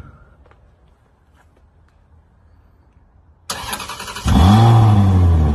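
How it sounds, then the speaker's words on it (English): A Ferrari 360 Spider engine starts after a few seconds of quiet: a short starter crank, then the engine catches and settles into a loud, steady idle close by. "So what we're going to do now, go to the rear of the vehicle, start it up."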